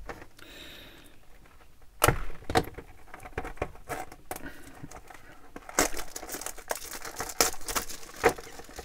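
Stiff cellophane packaging on a diecast toy car is torn and crinkled, with sharp ripping bursts and crackles close by, louder toward the end.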